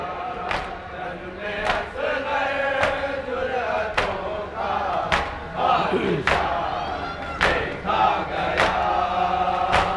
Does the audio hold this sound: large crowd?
yes